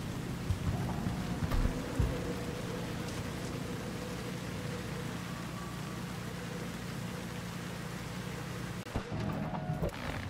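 Steady rain falling in a rainy city scene of the video game Cyberpunk 2077, a constant soft hiss with a faint low hum beneath it and a few brief knocks, heard alone without talk.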